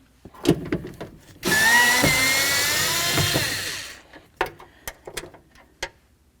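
Power tool whirs in one sustained burst of about two and a half seconds while removing a window motor mounting bolt inside the door of a 1999–2007 Ford Super Duty F-250, framed by close clicks and knocks of handling.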